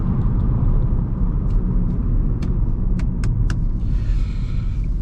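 A car engine pulls hard at full throttle, a loud, deep continuous rumble with an in-cabin drone and occasional faint clicks, steady throughout.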